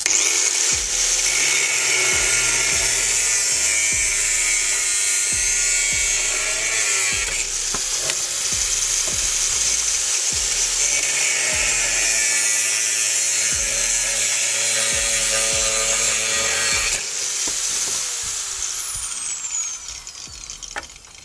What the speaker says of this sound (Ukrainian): Спробуємо болгарку. Вона їсть кіловат.